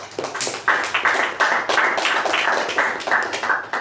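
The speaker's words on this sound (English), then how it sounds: "A big round of applause for Toastmaster Suresh." A small group applauding at a Toastmasters meeting, uneven bursts of close hand claps with a choppy, pulsing rhythm, fairly loud and without talk.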